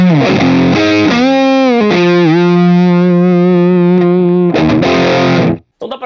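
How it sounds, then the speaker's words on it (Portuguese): An electric guitar played through a fuzz pedal rings out loud and saturated: a few quick notes, then a long sustained distorted note with slight bends, then more short notes before it cuts off. "E aí o som do fuzz fica assim."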